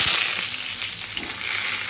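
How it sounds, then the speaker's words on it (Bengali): Mango frying in a pan makes a bright, close, steady sizzle and crackle throughout, with a couple of louder spits and no talking. "আম ভাজা"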